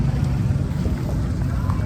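A boat engine drones steadily up close, with wind buffeting the microphone throughout.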